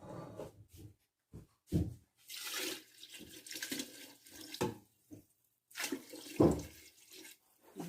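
Homemade broth poured into a soup pot in a kitchen, heard as quiet, uneven splashing in short bursts separated by brief silences.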